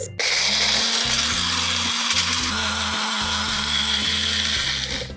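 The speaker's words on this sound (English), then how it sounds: "So toddy vinegar has gone in. Give this a good whisk." Whisking chicken cafreal marinade with toddy vinegar, a steady continuous whirring and churning, loud and close, running without pause for several seconds with no talk.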